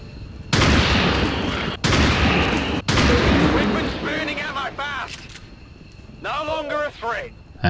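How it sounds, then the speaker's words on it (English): Rifle fire in the video game XCOM 2, with three loud bursts of shooting in quick succession followed by someone talking over the game's background sounds. "let's start things off with three shots from Ranger Warhawk"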